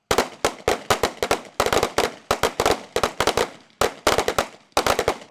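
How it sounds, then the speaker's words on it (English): Rapid bursts of gunfire at a police firing range, where a county bomb squad and SWAT team test bullets against Kryron, crack out in dense, loud clusters of sharp reports with short pauses between volleys, no talking. "Collier County's bomb squad and SWAT team hit the firing range early this morning, testing firepower."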